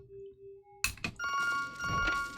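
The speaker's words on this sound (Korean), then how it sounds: "어 전화" An old-style telephone bell rings loudly in the video game To the Moon, bursting in suddenly after a quiet tonal passage and continuing as a bright, sustained ring.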